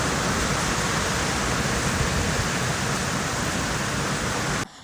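Heavy rain pours down outdoors in Malawi as a dense, unbroken roar that stays loud and even, then cuts off abruptly near the end.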